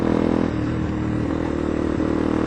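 A motorcycle engine runs close by throughout with a loud, steady rumble and some mechanical clatter. No one speaks.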